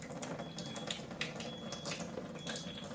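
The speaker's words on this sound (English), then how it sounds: "I'm gonna pour from this container." Water poured from a container during a cleaning and sanitizing supplies demonstration, a quiet, steady trickling splash that runs for a few seconds with no one talking.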